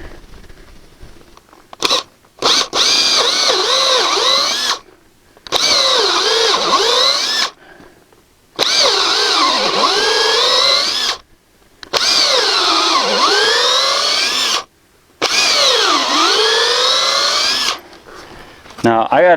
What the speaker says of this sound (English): And now we want to drill out or drill the hole.